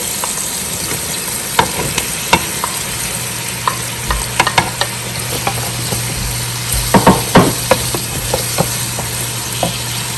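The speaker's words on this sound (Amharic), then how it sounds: "ከዛ ደግሞ አሁን ዙኪኒውን እጨምራለሁ።" Zucchini fries in a pan with vegetables for a pasta dish, a loud continuous sizzle punctuated by irregular utensil scrapes and taps against the pan, with a cluster of stirring clatter midway and no voices.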